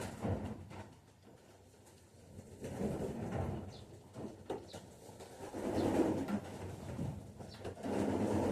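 Pigeons cooing softly in a loft of young birds, low repeated coos coming and going at moderate distance, with some rustling and faint thumps between calls.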